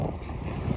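Strong gusting wind buffets the microphone out on rough water from a kayak, a dense continuous low roar that stays loud for the whole moment with no voices.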